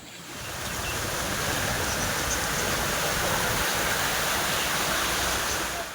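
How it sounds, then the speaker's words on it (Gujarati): Flood water in the Utavali river in Botad after heavy rain rushes loudly and steadily, a dense continuous roar of a fast-flowing river with no voices. "બોટાદ શહેરમાં ધોધમાર વરસાદથી ઉતાવળી નદીમાં ધસમસતું પૂર આવ્યું"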